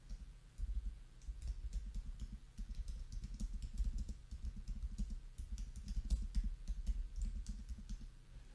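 Rapid, steady clatter of typing on a computer keyboard, keys clicking continuously and fairly close while a search is entered, with no talking over it.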